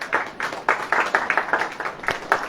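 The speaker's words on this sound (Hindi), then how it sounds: "कुछ जबरदस्ती ताली बजा रहे हैं।" Congregation clapping at a Hindi church sermon, a scattered group applauding in a loose, uneven rhythm of sharp claps, fairly close and without talk over it.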